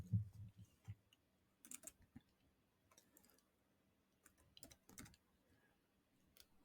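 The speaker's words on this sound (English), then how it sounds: "Just type width and hit enter." Soft, quiet clicking of keys on a computer keyboard in scattered bursts with brief pauses, like short words being typed, and no voices.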